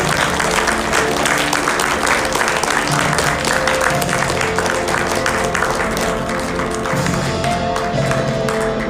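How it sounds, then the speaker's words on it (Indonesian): Sustained audience applause at a corporate award ceremony for digital asset company Nagaya, dense, even clapping that carries on loudly for several seconds, with music or faint voices underneath. "Tepuk tangan yang luar biasa."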